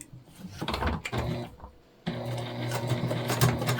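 A sewing machine stitches a self-drafted fabric tote bag in short bursts, pausing briefly before running steadily again with a close, rhythmic mechanical whir and rattle.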